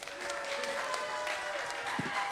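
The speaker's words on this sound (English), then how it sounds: "Clap it up for her." Faint crowd applause at an award ceremony for streamers, a soft, even wash of clapping lasting a couple of seconds, somewhat distant, with a voice briefly audible over it.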